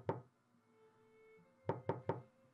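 Knocking on a door: a single knock, a short pause, then three quick knocks in a row, sharp and close over a quiet background.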